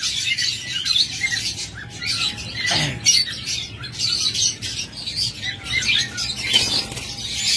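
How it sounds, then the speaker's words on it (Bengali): A pair of olive Fischer's opaline lovebirds gives scattered chirps and squawks with brief wing flutters, moderately close amid a busy bird-filled background. "এটা হলো অলিভ ফিশার অপালাইন, চমৎকার পেয়ার, একদম uncommon pair, olive fisher opaline"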